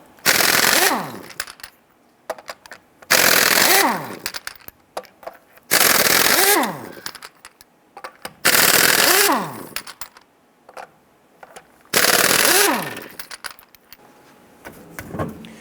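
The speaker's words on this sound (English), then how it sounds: "Using your 19mm socket, loosen and remove your lug nuts." An impact wrench with a 19mm socket zips lug nuts off a 1994-2004 Ford Mustang wheel in five loud, close, rattling bursts. Each burst ends in a falling whine, with quiet gaps between them.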